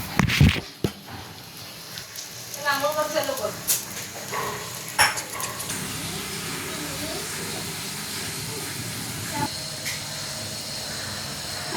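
Slices of bread toast in a hot pan with a steady sizzling hiss that carries through the whole stretch, with a few sharp clatters and a voice early on.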